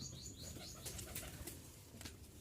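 Rajshahi giribaz flying pigeons and racers in an evening loft: faint wing flaps and soft coos, distant and quiet, over a steady background hiss.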